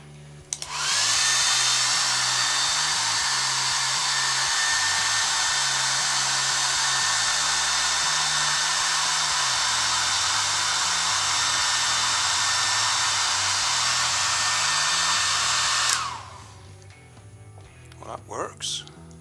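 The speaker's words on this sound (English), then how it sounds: "I'm going to use a hairdryer to blow some wind over it" A hairdryer blows steadily over a small wind-powered car kit, a loud continuous whir lasting about fifteen seconds before it cuts off abruptly, followed by faint clicks and handling noise.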